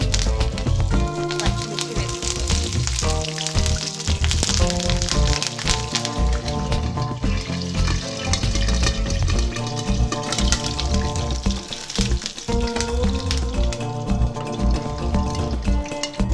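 Tempering seeds and curry leaves crackle and pop densely and continuously in hot oil in a pan, over a faint tonal background.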